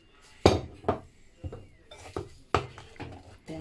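Spoon or spatula knocking and scraping against a bowl while chocolate brownie batter with white chocolate chips is mixed, a series of sharp, irregular clinks and taps with soft stirring between them.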